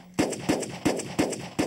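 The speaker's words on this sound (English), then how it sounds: "our gunfire was computer-generated" Computer-generated gunfire effect for a low-budget independent movie: five sharp, evenly spaced shots about a third of a second apart, each a loud crack with a short decaying tail, with no voices.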